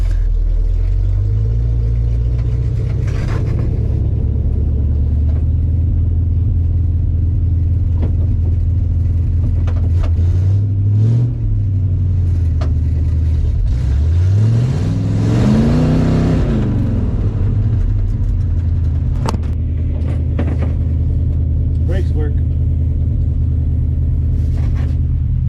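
A 1957 Chevy car engine idles with a deep rumble, then revs up and down repeatedly while driving on dirt, loud and close throughout.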